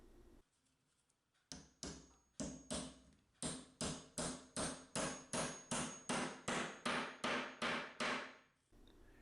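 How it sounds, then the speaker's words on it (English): A hammer taps a wooden chair's felt-pad base onto the chair leg repeatedly, about fifteen sharp, evenly spaced blows that come steadily after a short quiet start, close and loud with no talking. "Tap the base onto the leg with a hammer."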